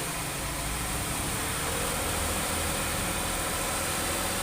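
A 2010 Lexus GS 300 with a 3000 cc engine and its catalytic converter removed, giving a loud, close, raspy exhaust roar held steady and unbroken throughout.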